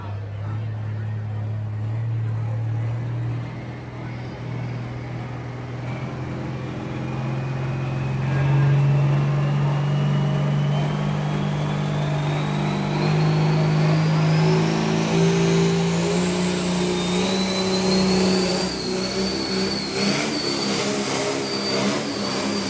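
The Callaway Cadillac pulling tractor roars down a pulling track at a 2025 NYS Tractor Pullers Association event. Its engine is loud and sustained, climbing steadily in pitch as it revs hard.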